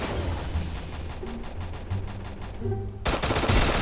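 Sustained automatic gunfire in the mobile shooter Free Fire rattles in a steady rapid stream for about two and a half seconds. After a brief gap a second loud burst follows.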